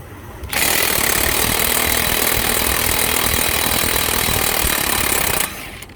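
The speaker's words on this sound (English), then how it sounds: "now I got to take the axle nuts off, and this way the axles can push through" An impact wrench loosens the axle nuts on a 220K-mile Dodge Caravan, giving a loud, continuous rattling hammer that runs for about five seconds, close up, then cuts off.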